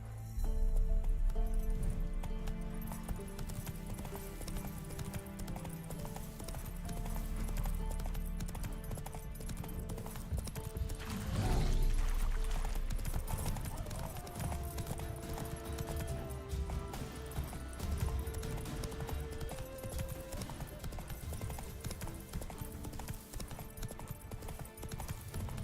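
Geralt's horse Roach gallops in Witcher 3, with steady hoof clip-clop running under a continuous game music score and ambience, no voices heard.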